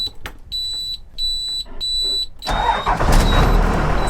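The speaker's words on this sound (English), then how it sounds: "we have to turn the bus on and let it idle for up to 10 minutes" A bus with air brakes, parked for overnight camping, starts up: warning beeps pulse for a couple of seconds, then a loud, broad diesel engine rumble takes over and holds steady, close by.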